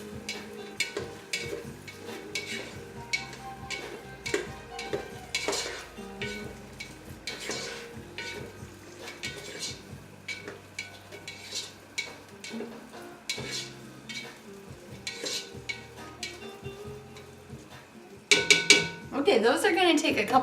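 Onions frying in butter in a pot for chicken stew: a continuous low sizzle broken by many light spoon taps and scrapes against the pan, close by, ending in a louder clattering burst near the end.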